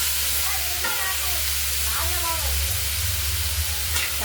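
Tomatoes hitting onions frying in a pan, a constant dense sizzle with occasional scraping stirs, close and loud, with a low hum underneath and faint speech tones.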